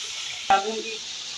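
Cooked red kidney beans (lobia) tipped into hot masala with yogurt in a pan, a sharp sudden sizzle burst that quickly settles into a soft frying hiss, close and brief.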